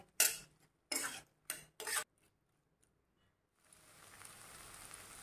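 Four scraping strokes as a spoon works boiled potatoes into spinach curry in a pot, then quiet before a faint steady hiss rises.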